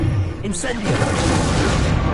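The Incendio fire spell is cast in Hogwarts Legacy, a dense roaring burst of flame and rumble that swells and stays loud, with game noise and a voice mixed underneath.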